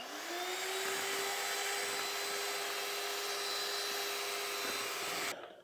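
Electric mixer beating cream with vanilla essence for cream puff filling, a steady high motor whine held for about five seconds before cutting off abruptly, close and alone.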